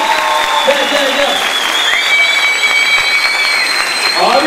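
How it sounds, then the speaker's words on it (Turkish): Sustained applause from a stage-show audience, a loud, dense, steady wash of clapping filling the whole stretch, with a voice speaking over it and a brief musical tone running underneath. "Fikret Uygur'a büyük büyük alkış ama"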